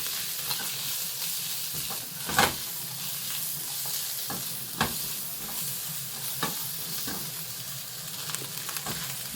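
Onions and carrots sauté with browning fish cake in a pan, a steady close sizzle with regular scraping thumps of a spatula stirring through, and no voices.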